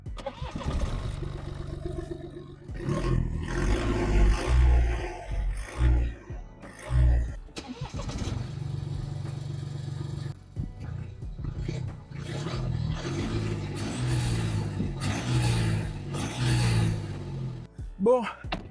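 A BMW 114d engine starts and runs, rising and settling in a few revs before steady driving noise, with people talking over much of it.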